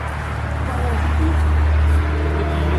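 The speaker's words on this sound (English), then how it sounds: "Wait, I can't hear you. The cars is too loud." Loud road traffic rumbles steadily close by as cars pass, a constant low roar with a brief swell near the middle, while a person talks over it.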